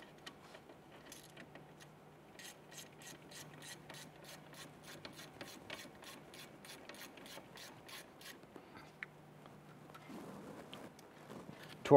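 A ratchet snugging down the hub assembly bolts on a 1999-2004 Jeep Grand Cherokee during a wheel bearing replacement, a steady fast train of clicking pawl strokes, close and moderately quiet, pausing briefly before resuming.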